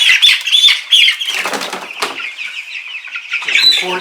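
Meat-bird chickens being moved on a farm cluck and squawk in short bursts, with loud close wing-flapping scuffles breaking in between the calls, all at close range and with no talk.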